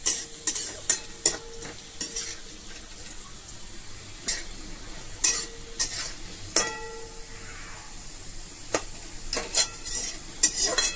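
Potatoes fry in a pan for sabudana khichdi, with a soft steady sizzle beneath repeated sharp scrapes and clinks of a spoon stirring against the metal, fairly close and quiet, no talking.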